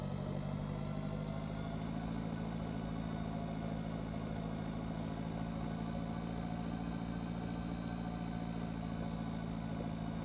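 Small tractor pulling a heavy trailer in the farming game Pure Farming 2018, a steady low engine drone that holds an even pitch throughout, moderate and continuous with no voices.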